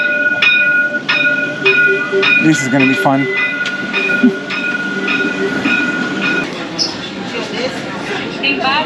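A train pulls into a station in Rio de Janeiro, rumbling and clattering steadily with squealing tones, while people talk nearby over the noise.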